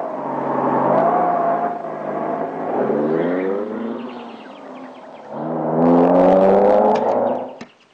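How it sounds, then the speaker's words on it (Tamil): A car pulls away and accelerates, the engine note rising in pitch through several gear changes and swelling loud again near the end before cutting off. "டிரைவர் வண்டி எடுப்பா. ரொம்ப இருக்குப்பா, வண்டி எடு."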